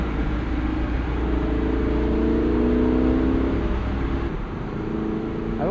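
A 2025 Lexus LC 500 Convertible's naturally aspirated V8 revs in rush-hour traffic, a loud continuous engine tone rising in pitch before easing off near the end, with no voices.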